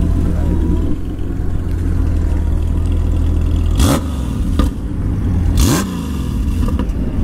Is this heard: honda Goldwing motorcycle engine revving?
yes